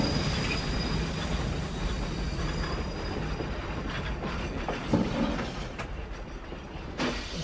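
A train in The Last Express game slows to a halt, rumbling and rattling along the rails with hissing brakes and occasional wheel squeals and clanks, steady and close with no talking.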